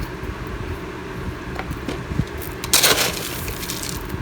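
Small decorative rocks poured as top dressing over potted succulents, a loose gritty rattle and crunch of stones trickling and settling, with a brief louder clattering burst near the end.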